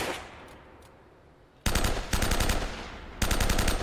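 Loud, close automatic gunfire from an Uncharted action game on PS4 comes in two sharp bursts of rapid shots after a quiet stretch.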